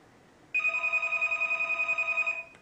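A telephone bell rings in a rapid, trilling pulse that starts abruptly, carries on loudly for about two seconds and then stops, with no voices over it.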